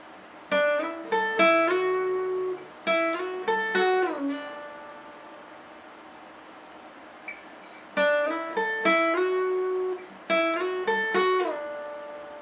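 Short guitar filler solo, heard as two bursts of quick picked notes separated by a pause, each phrase ending on a sustained ringing note, clear and close with no talking.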